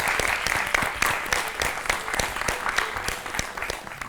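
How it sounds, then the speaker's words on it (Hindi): Loud, dense applause from a studio audience on an educational quiz show, a continuous burst of many hands clapping that stays strong throughout. "हो जाए जोरदार तालियां।"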